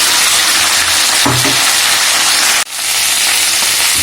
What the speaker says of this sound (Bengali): সজনে ডাঁটা মিশিয়ে আলুর সাথে হালকা ভেজে নেব